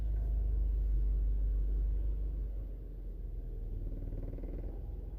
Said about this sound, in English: I'm going to have to turn the car back on because I'm freezing